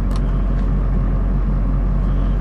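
A 2004 Chevy Silverado 2500HD truck idles in neutral with a steady, loud low engine rumble and drone from close inside the cab, with no talk.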